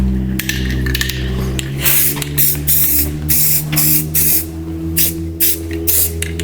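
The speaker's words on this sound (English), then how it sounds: "Oh, I love doing rattle can." A rattle can sprays paint onto a Ford F150 truck body during rust repair, giving loud, close hissing bursts in quick repeated passes, separated by brief gaps.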